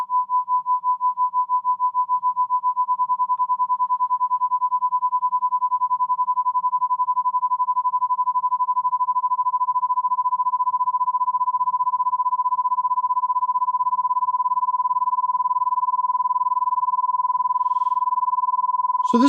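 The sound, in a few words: amplitude modulated test tone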